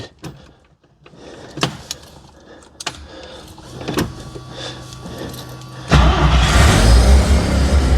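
A car engine cranks and catches after an ignition switch replacement, a few clicks and whirs first, then a loud steady idle rumble taking over near the end.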